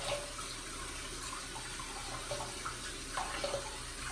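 Water runs steadily from a tap while a shaving brush is rinsed under it, a close, quiet splashing flow that continues throughout without talk.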